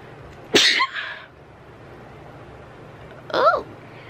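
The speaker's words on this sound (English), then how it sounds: "Oh, I have to sneeze." Two short, sharp sneeze-like bursts, close to the mic, separated by a few seconds of quiet room tone.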